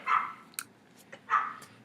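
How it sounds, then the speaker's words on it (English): A dog barks in the background, two distinct barks about a second apart with faint yips between, moderately loud against a quiet room. "you hear my dog barking in the back"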